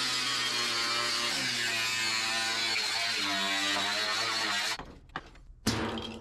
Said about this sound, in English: I think I'm going to cut that down there and just chamfer it out